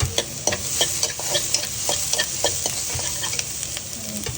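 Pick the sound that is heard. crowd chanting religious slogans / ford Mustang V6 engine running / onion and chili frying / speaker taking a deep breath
onion and chili frying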